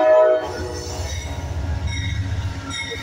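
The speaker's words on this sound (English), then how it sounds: "The next train arriving, arriving now is train number 6," An Amtrak California Zephyr train pulls into Martinez station, its horn sounding briefly at the start before a steady low rumble of rolling wagons and wheels continues up close, with faint squeals above.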